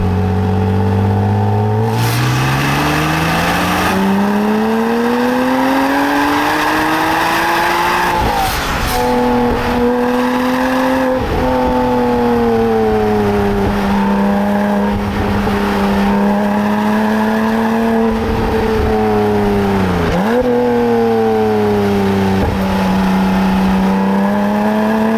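A Porsche Cayman R (987) with sports exhaust accelerates hard, its engine note climbing through rising and falling pitch sweeps across several gear changes, loud and close with a raspy edge and brief shifts between pulls.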